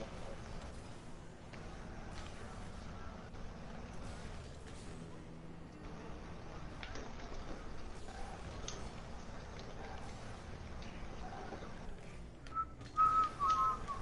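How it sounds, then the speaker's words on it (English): Loud whistle bursts during a live Rocket League match on PS4, sharp and near, rising out of steady game noise and car sounds near the end of the stretch. "That was fucking loud, dude. With that whistle."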